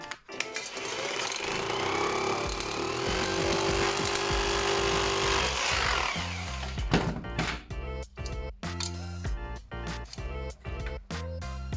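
Power drill driving a fixing for a box, a loud continuous whirring burst lasting several seconds that winds down into rattling, knocking handling noises.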